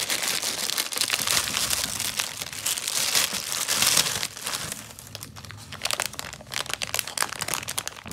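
Continuous loud crinkling and rustling of a plastic bag as hands rummage through it, close up and unbroken, with brief crumpling bursts and no talking.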